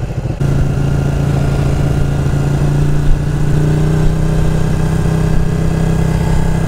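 Ducati 1299 Panigale motorcycle engine running steadily and loud, a deep continuous throb with a slight rise in pitch partway through, close by with no talk.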